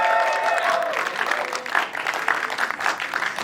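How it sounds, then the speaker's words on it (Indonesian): An audience claps warmly at a film press event, steady, fairly close applause lasting a few seconds with some crowd murmur. "beri tepuk tangan yang meriah buat anak badut alias Adut, Kristo Immanuel."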